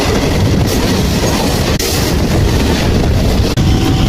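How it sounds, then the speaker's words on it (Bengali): A Krishnanagar local train rolls toward Naihati, its carriages rumbling loudly with rhythmic wheel clatter and brief gaps where the wagons cross rail joints, heard from on board with no talking. "নৈহাটিতে আমাদের ট্রেন ঢুকে গেছে"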